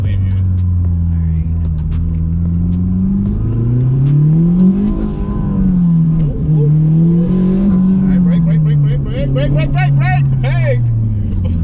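A turbo Honda Civic drives on the road, its engine humming steadily, then swelling and settling as it revs through gears, with people talking inside the car.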